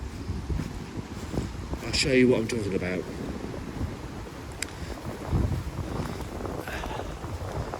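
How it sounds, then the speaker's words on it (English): Wind buffets the microphone in a constant low rumble while a person speaks briefly over it outdoors. "Sorry about the wind"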